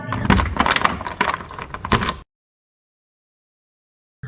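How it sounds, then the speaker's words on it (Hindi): A bunch of keys jangles and rattles briskly for about two seconds, close and clear, then stops into silence. "चे से चाबी।"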